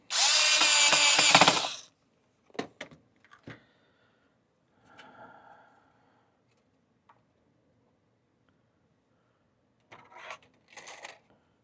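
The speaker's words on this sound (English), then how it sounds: "Get our screws back in." Power drill driving screws back into a 2014–2017 Mazda 6 Touring instrument cluster: one loud, close whirring burst of about two seconds, followed by small clicks and handling noises, then a couple of brief bursts near the end.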